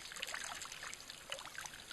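Elephants at a waterhole let water trickle and drip off their trunks, a soft, continuous splashing dribble close by with no voices.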